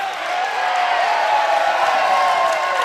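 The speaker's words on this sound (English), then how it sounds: "Officials really getting a round of applause here." Crowd at a Kentucky high school basketball game, Pickett County at Russell County, cheers and applauds in a loud, steady wash of clapping and voices that fills the gym throughout.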